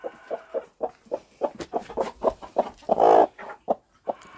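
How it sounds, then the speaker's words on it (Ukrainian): Several broody hens clucking close by in a rapid, uneven series of short calls, with one longer, drawn-out cluck in the middle and no talking. "7 квочечок ганяють."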